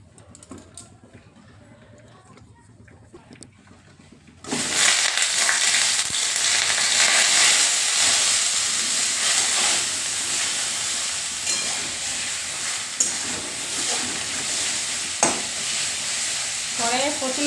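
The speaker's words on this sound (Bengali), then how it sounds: "কড়াইয়ে প্রচণ্ড তেল ছিটকে আছে সব।" Potato and pointed gourd curry frying in oil in a wok, bursting into loud, dense sizzling and spattering after a quiet start, with scraping stir noises and crackles continuing close up.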